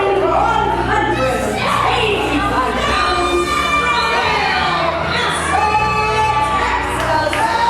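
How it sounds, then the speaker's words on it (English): A wrestling crowd at an independent show roars and cheers continuously as a wrestler heads to the ring, with shouts and excited voices loud throughout. "Listen to the crowd reaction for El Toro"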